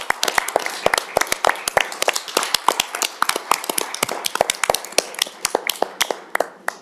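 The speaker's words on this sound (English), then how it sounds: "a good moment of a round of applause, maybe, for the staff and our volunteers" A small council-meeting audience gives a round of applause for staff and volunteers: sharp, distinct handclaps at a brisk, uneven rhythm, fairly close and dry, with little talk.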